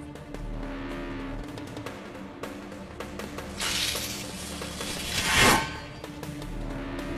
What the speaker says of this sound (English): The engine roars with excitement